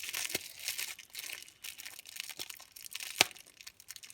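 Paper being cut to size for a berlingot box gives steady crinkly rustling and scraping, with a few sharper snips or taps standing out, close and moderately loud, with no voices.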